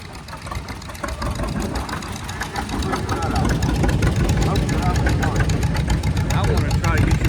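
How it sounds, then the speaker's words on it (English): An antique John Deere tractor idles at a machinery parade with a steady, close mechanical chug that grows a little louder midway, while people talk over it. "Nice tractor."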